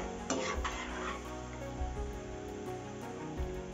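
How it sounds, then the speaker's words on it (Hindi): Onion frying in oil until golden brown for a restaurant-style veg biryani, a dense continuous sizzle with a few stirring clatters near the pan, no speech. "जब तक हमारा गोल्डन ब्राउन नहीं होता तब तक हमें इसे अच्छी तरह से तल लेना है"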